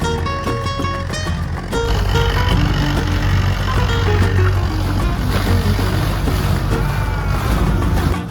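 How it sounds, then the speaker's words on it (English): A dinghy runs across the water of Banderas Bay with a loud, steady motor drone and wind buffeting throughout, close up and without talking. "we're just taking a short dinghy ride over there to go check it out"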